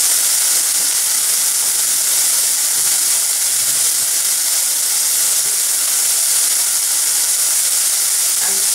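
Cabbage and green peas sabji with turmeric sizzles in a pan, a steady loud hiss of frying that runs unbroken throughout.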